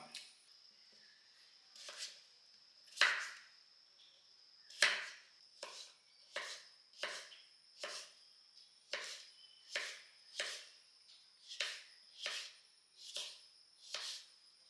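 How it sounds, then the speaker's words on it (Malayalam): Papaya is chopped with a knife on a board, one crisp chop at a time in a steady, evenly spaced series, close and fairly quiet, with a faint high insect-like whine in the background. "ഇനി ഇതൊക്കെ ഉണ്ട് നുറുക്കിയെടുക്കാം."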